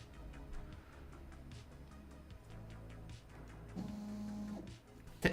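A homebuilt Core-XY 3D printer with its XY axes moving noisily gives a steady mechanical whir and rumble, with a brief tonal whine rising near the end.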